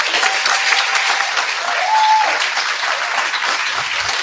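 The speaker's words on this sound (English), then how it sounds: "Should we give Flash a really massive round of applause?" Audience at a youth awards ceremony giving loud, sustained applause, dense clapping from a large crowd that holds steady throughout with a faint tone running beneath.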